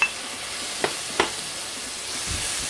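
Shrimp hit a hot pan of onions, peppers and garlic, sizzling steadily with a few clinks and stirring knocks, close and without talk.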